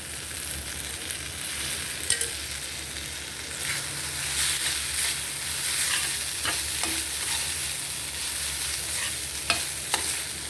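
Rice being stir-fried for carrot rice hisses with a steady frying sizzle, while a spatula scrapes and taps the pan now and then, with no talking.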